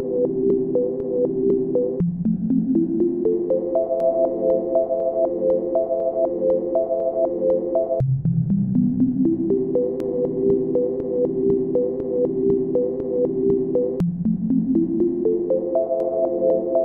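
A sample looped bidirectionally by the LiSa ugen in ChucK repeats as rising stepped synthetic tones, with each cycle sweeping upward before jumping back down, steady and clear with no voices.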